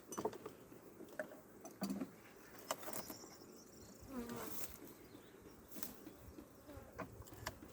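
Honeybees buzz faintly around a hive in an Adana apiary in April as a super is added, a soft, steady drone broken by occasional light knocks and handling noises.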